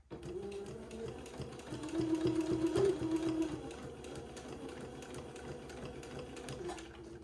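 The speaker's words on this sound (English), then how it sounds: "keep the waistband nice and straight as I sew it on" Sewing machine stitching a waistband onto plaid button-on bloomers, a steady close whirring run that swells slightly in the middle and continues to the end.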